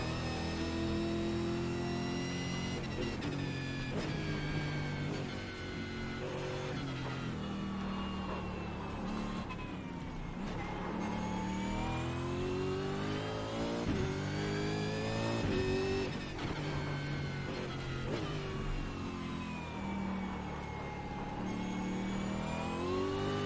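A Ford Mustang or Holden ZB Commodore race car in the iRacing simulator revs and shifts continuously, its engine pitch rising and falling through gear changes and corners, loud and close throughout with no talk.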